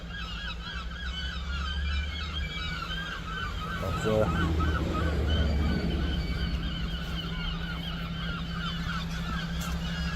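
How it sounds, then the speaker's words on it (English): Many seagulls call at once, a loud, constant chorus of repeated squawks over a low steady hum, with a brief voice partway through. "bloody seagulls everywhere."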